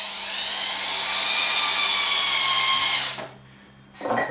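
Power drill driving self-tapping screws into a wooden construction, a loud whining run of about three seconds that cuts off, then a short second burst after a pause, heard up close.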